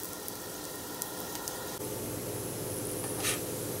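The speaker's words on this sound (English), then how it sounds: "Just grill each side until it's kind of brown." Spinach and mushroom ravioli sizzle steadily on a hot grill pan as a continuous hiss. The hiss grows slightly fuller partway through and holds close and even to the end.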